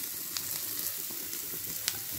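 Medium-sized onion pieces and cumin sauté in butter in a pan, giving a steady close sizzle with a few brief clicks from stirring, and no voices.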